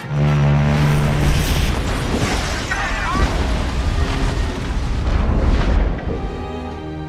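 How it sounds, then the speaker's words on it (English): A massive car bomb blast in a thriller film rumbles as a deep, sustained roaring boom with debris and burst noise, loud and dense, partly under a narrating voice. "Moments later, a massive explosion occurs, claiming the lives of hundreds of people."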